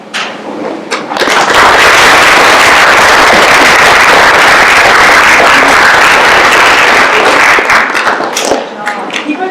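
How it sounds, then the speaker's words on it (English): An audience bursts into loud, sustained applause after a scene from Shakespeare's Macbeth, with dense clapping and a few cheers that swell quickly, hold for several seconds and start to fade at the end. "Keep applauding"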